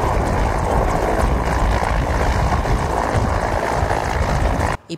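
A Federal Police helicopter arriving at the Michoacán attorney general's office makes a loud, continuous rotor and engine roar that stays steady throughout and cuts off abruptly at the end.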